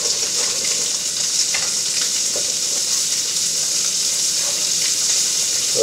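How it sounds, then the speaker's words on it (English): Rockfish fillets and roll neck clams frying in a pan, a dense, continuous, loud sizzle with a hissing wash and a few faint crackles, heard alone without talk. "So now we got our fishes flipped over. Go ahead and add our little roll neck clams here."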